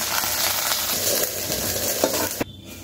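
Fried cashews, raisins and cardamom are poured into hot milk payasam made with sago and vermicelli, giving a loud, steady sizzle and bubbling hiss that cuts off abruptly near the end.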